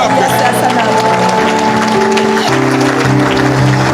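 A church congregation applauding and cheering in praise, a dense, steady wash of clapping and crowd noise mixed with sustained music tones throughout.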